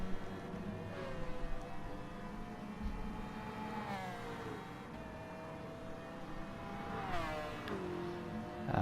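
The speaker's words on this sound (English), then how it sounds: "It's got a very Formula 1 style sound to it with its rotary engine." A Mazda rotary-engine race car in Gran Turismo Sport at Interlagos revs high and shifts, rising and falling whines with a pass around the middle and another climb near the end, moderately loud, no voices.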